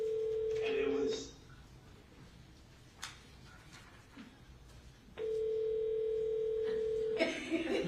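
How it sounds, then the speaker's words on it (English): A telephone tone rings during a call placed into a courtroom at a criminal trial: a steady electronic tone for about a second, a pause with faint background noise, then the tone again for two seconds before noisy room sound returns. "Can you call again, Colleen?"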